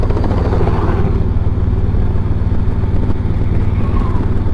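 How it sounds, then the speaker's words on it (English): Tour helicopter flying close overhead with a loud, steady rotor chop and engine drone that holds throughout, rumbling and pulsing without pause. "And these are the helicopter tours,"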